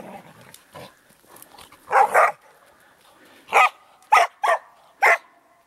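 A dog barks during bailing training, a handful of sharp, loud barks close by, some doubled and the rest spaced irregularly, with quieter yips and snuffles between them.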